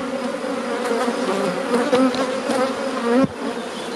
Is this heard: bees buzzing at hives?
yes